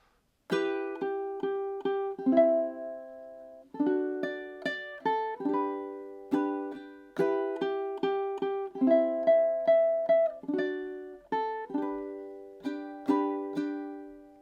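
A ukulele plays a melodic passage alone, with clear rhythmic note attacks and chords that ring and decay, close and moderately loud.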